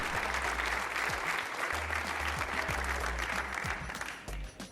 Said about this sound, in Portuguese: Um aplauso também para o Gonçalo